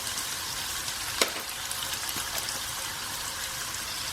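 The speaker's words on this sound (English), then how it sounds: "mince has been cooking on a medium to high heat" Pork mince frying over medium-high heat in a pan for an Asian pork and green bean stir-fry, giving a steady broadband sizzle throughout with a single brief clack of a utensil near the middle.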